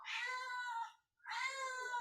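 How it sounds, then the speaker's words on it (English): A house cat entering a room gives two drawn-out meows with a short pause between them, close but quiet, with no other sound around them. "Cat just burst in."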